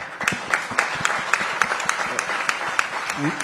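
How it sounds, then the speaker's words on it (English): Audience applause during an onstage conversation about venture investing and a private space company from India. Steady, loud clapping with sharp individual claps runs throughout, and a faint voice comes in near the end. "I think that calls for a round of applause."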